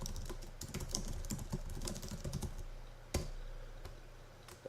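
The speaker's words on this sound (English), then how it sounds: "I'm going to go ahead and type something." Rapid typing on a computer keyboard, close and steady, with clustered key clicks and a few louder single strokes near the end, over a faint low hum.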